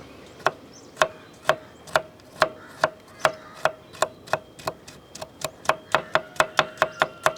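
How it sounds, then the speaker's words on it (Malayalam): A knife finely chopping coconut pieces on a board for a Kerala neyyappam snack: about twenty sharp, evenly spaced chops that quicken toward the end, close and alone. "അത് തീരെ നൈസായിട്ട് വേണം അത് അരിയാൻ."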